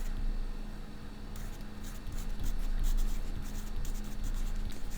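Marker or chalk strokes on a classroom board, a run of short scratchy squeaks that grow busier and louder in the second half, steady room hum underneath, no talking.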